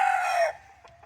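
A Bantam Malay rooster lets out one short, loud crow close by, cutting off after about half a second into quieter soft clucking sounds.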